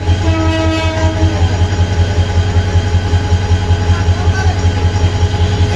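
An intercity train rolls into the platform at Sripur railway station in Bangladesh with a steady, loud low rumble of wagons, and brief tonal horn notes sound near the start over continuous crowd and station noise.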